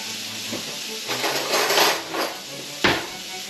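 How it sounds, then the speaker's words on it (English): Taco seasoning being stirred in a pan, a spoon scraping and clanking against the metal in several strokes over a light sizzle, ending with a sharper knock. "I'm going to stir it."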